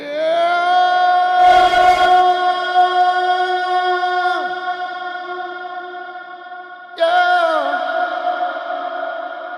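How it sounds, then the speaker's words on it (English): Shimmer reverb on a sustained tone builds a bright, layered halo of high octave harmonics that swells, fades around four seconds, then returns as a fresh note blooms near seven seconds, loud and alone. "This is a shimmer reverb that, listen to what happens."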